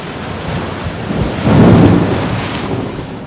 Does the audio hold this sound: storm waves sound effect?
yes